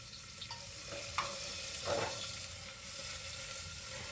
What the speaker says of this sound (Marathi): फुल चायनीज स्टाईल मध्ये ब्राऊन कलर कांदा होईल त्याला फ्राय